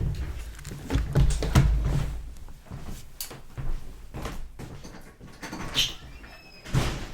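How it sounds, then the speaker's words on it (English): Knocking on a door inside a home: a handful of sharp, fairly close raps spread irregularly through the clip, with no talking over them. "Who's knocking on the door?"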